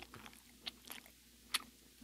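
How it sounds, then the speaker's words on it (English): Someone eats eggs with exaggerated, wet chewing up close, a quiet run of irregular smacking and crunching bites with a few sharper clicks. "Gross chewing sounds."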